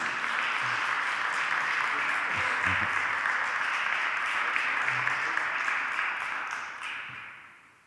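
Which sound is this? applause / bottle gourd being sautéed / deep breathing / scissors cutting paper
applause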